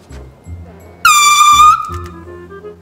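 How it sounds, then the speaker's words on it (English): A loud air horn blasts once for under a second in a garage, sharp and piercing, between soft shuffling and background noise. "I have set up in the corner by the door and air horn angled, so the door is open."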